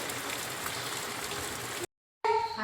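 Steady rain in a village, a dense even patter and hiss of falling drops, continuous and fairly soft until it breaks off near the end.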